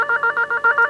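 A telephone ringing with a rapid, regular electronic trill pulsing in quick bursts, loud and close with no voices.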